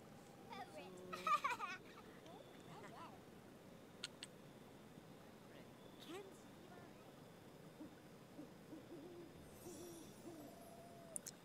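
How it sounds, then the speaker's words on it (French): Owl-like bird hoots in the Sims Medieval video game, faint and intermittent over quiet game ambience, with a few brief chirps and voices. "Si, il y a des oiseaux là."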